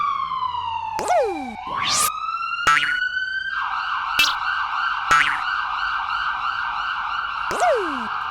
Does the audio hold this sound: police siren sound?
yes